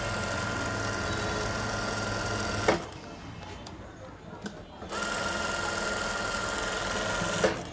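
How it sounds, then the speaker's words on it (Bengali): A sewing machine runs a fast, steady whirring stitch along a frock seam. It stops for about two seconds, then starts again, heard up close with no talking over it. "এই যে জাস্ট এমনি একটা সেলাই দেওয়া।"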